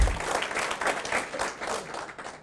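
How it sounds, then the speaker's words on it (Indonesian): An audience claps for a product at an Indonesian Tiens company presentation, with steady, moderately loud applause from a crowd filling the room for a couple of seconds. "Aplaus dulu dong untuk produk kita Bapak Ibu"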